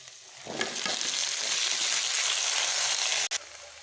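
Mixed vegetables and onion fry in hot oil for a Bengali ghonto, giving a steady, loud sizzle with stirring scrapes that breaks off briefly near the end.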